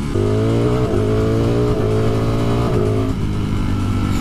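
Loud, close roar of a 2020 Ducati Streetfighter V4 motorcycle engine revving hard, holding a steady aggressive note with small dips and rises in pitch throughout.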